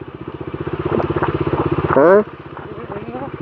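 A motorcycle labours up a rough uphill road, its engine thumping in a steady, rapid pulse close by, briefly drowned out by a voice mid-clip before the throbbing carries on.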